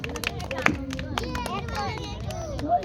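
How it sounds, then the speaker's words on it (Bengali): A crowd at an outdoor gathering claps hands in scattered, uneven bursts, mixed with steady chatter, babble and children's voices close by. "হাততালি দেন সবাই"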